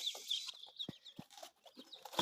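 Poultry on a farm, chicks with Agidel ducks, musk ducks and guinea fowl, giving faint scattered clucks and high chirps, with brief calls rising now and then over a quiet background.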